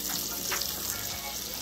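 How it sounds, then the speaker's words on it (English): Buttermilk chicken strips fry in hot grease with a dense, constant sizzle and fine crackling, heard close up and alone for the whole moment. "now you wanna just place it back in that grease again"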